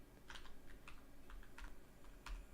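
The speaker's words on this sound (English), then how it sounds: "what's up with my keyboard?" Computer keyboard typing during a live stream about SQL and Python, heard as a handful of quiet, scattered keystrokes with uneven gaps, close but soft over low room hum.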